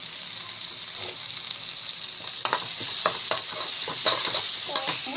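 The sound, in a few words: sautéing tomatoes with lentils in oil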